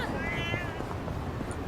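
A cat meows in the video game Yakuza: Like A Dragon, a short wavering mew that sits under a steady layer of game background sound.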